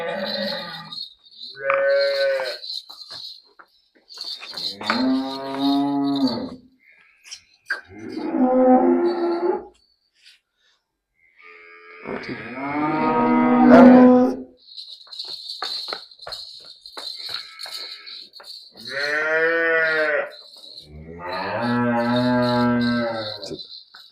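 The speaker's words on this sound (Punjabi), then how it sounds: "ਪੂਰੀ ਫੁੱਲ ਵੱਡੀ ਝੋਟੀ ਵੇਖ ਲਓ ਜੀ" A large water buffalo heifer gives a string of deep, drawn-out moos, about seven calls of varying length separated by pauses, close and loud over a steady background of chirping crickets.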